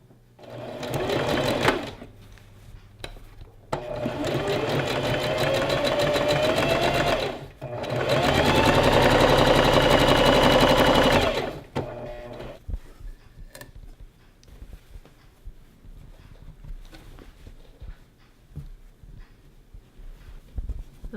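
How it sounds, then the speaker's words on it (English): A sewing machine runs a zigzag stitch around a dress hem in three sustained, loud bursts separated by short pauses, followed by quieter handling clicks and faint rustling. "I'm going to run a zigzag stitch all the way around just to finish it off"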